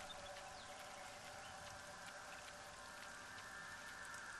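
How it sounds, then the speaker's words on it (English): Rain falls in the survival video game How to Survive as a faint, even hiss of drops that holds steady without a break, with a soft low rumble underneath. "the only good part about the rain is that it refills those wells"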